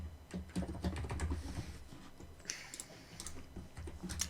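Fingers type on a computer keyboard, pressing keys in a quick run of light clicks, then a short pause and a few scattered taps, close and fairly quiet with no talk.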